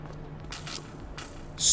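Spray can bandits in the video game The Precinct spray paint in short hissing bursts, with three quick sprays in a row over a faint game backdrop.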